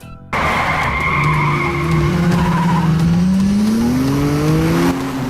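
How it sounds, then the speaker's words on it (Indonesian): Toyota AE86 drifting, its tires squealing in long rising and falling tones over a steady, loud engine roar that starts abruptly and holds for about five seconds. "Toyota AE86."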